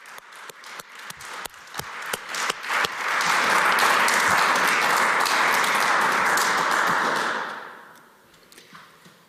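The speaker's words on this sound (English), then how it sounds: "I would like to ask you for a round of applause for our musicians." Audience applause for a musical quartet at a university ceremony, beginning with scattered separate claps that swell into dense, sustained clapping for several seconds before fading out.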